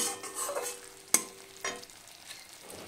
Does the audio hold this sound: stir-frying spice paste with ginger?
yes